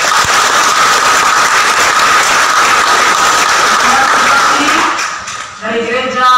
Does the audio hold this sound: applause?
yes